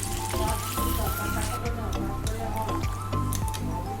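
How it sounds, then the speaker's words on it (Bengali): Hot water poured into a pot of meat curry gives a steady sizzling splash and gurgle, close and continuous, with a brief change in tone midway as the pouring settles. "এবারে দিয়ে দেবো গরম জল।"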